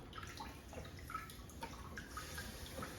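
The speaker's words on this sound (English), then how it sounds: "I'll go ahead and turn the water on and run some water through it to purge the air and everything." Water from a spotless water system hose pours steadily into a bucket, a continuous broadband splashing wash with small sputters as air purges from the line, close and alone.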